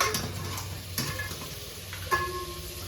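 Chicken head and leg pieces fry and sizzle in a pan with ginger, steady close crackle broken by a few sharp clinks and stirs of a utensil against the pan.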